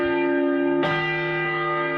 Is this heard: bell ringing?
yes